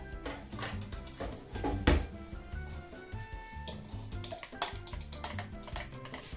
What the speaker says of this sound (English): And whisk it with the fork.